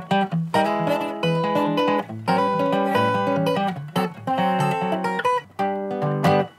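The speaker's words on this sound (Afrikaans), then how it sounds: "En dan hierdie is 'n resonator gitaar." A resonator guitar played in a blues style: close, metallic-toned plucked chords and bent notes in short rhythmic phrases with small gaps, played alone without talk.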